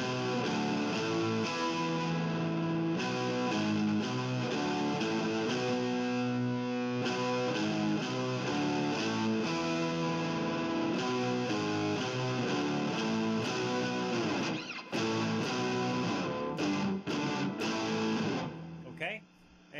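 Distorted electric guitar playing the first bridge of a song in drop D tuning, a dense rhythmic riff with repeated chord stabs and brief breaks, fairly quiet overall.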